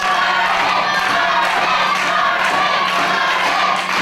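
A large wrestling crowd cheers and shouts loudly and continuously, a dense roar of many voices filling the arena without a break.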